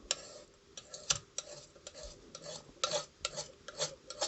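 A razor blade scrapes heavy soot off the glass door of a fireplace stove in short repeated strokes, each a bright rasping swipe, close and fairly quiet with small gaps between passes.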